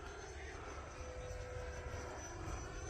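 An E-flite Viper 90mm RC jet makes a low pass, its ducted fan giving a steady, moderately distant whooshing roar with no voices.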